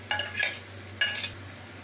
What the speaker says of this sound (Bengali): তার সাথে আমি সেদ্ধ করে রাখা ডাল আমি দিয়ে দিচ্ছি।